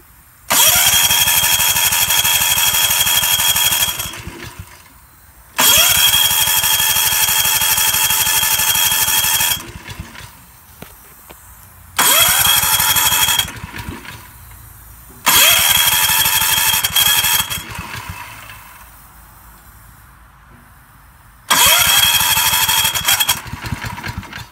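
Generator engine converted to propane without a kit, running on propane fed through a needle valve: five loud, close bursts of engine noise, each lasting several seconds, separated by short quiet gaps.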